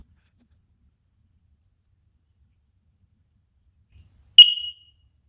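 A smart smoke alarm lets out a single short, sharp electronic beep while being set up, loud and close after several seconds of near silence, then cuts off quickly.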